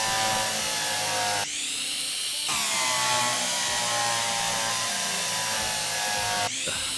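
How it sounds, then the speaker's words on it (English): A drill bores into a shed in the train game Derail Valley, a loud continuous whirring grind that shifts pitch abruptly a few times, close and alone. "you can drill into the shed now"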